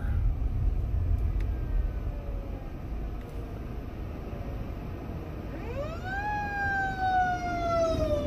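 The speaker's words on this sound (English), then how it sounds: "And there's a fire truck coming here. I better pull over." Fire truck siren rising and wailing as the emergency vehicle approaches and passes, swelling loud in the second half over steady road and engine rumble from a car pulled over.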